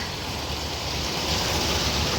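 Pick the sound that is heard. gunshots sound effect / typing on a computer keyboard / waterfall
waterfall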